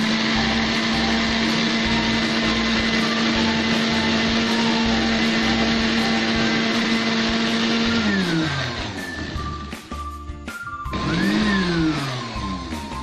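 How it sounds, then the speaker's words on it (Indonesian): A blender grinds young galangal and three betel leaves for a herbal cough remedy, its motor whirring loud and steady, then slowing and revving up again near the end, close by with no talking. "Mulai kita blender ya"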